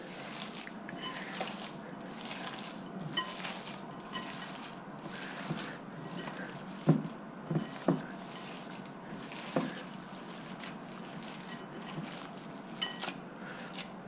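Hands knead and squish a raw meatloaf mixture with breadcrumbs in a bowl, making quiet, soft squelching and patting sounds with a few sharper wet slaps scattered irregularly.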